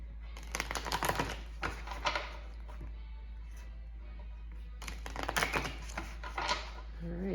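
Tarot cards being shuffled in two bursts of crisp riffling and flicking, close and fairly quiet, separated by a near-silent pause.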